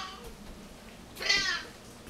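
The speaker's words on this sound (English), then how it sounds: "It looks like I have a cat." A cat gives a single short meow, fairly faint, in an otherwise quiet indoor room.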